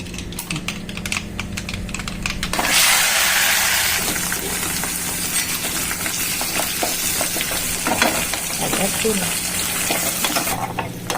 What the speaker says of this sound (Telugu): నూనె వేడెక్కినాక ఒక స్పూన్ ఆవాలు జీలకర్ర ఏం పప్పులోకి ఓన్లీ ఆవాలు కరివేపాకు ఎండుమిర్చి ఎర్రగడ్డ